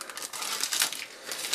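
A plastic Minions sweets bag crinkles and rustles as it is handled, a close, continuous crackling with small bursts of louder crumpling.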